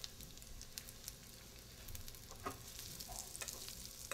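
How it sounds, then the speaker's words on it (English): Bacon and potatoes sauté in a pan with salt and pepper for a brie tartiflette, giving a soft, steady sizzle and frying crackle with a few faint stirring clicks throughout. "saute them a little bit"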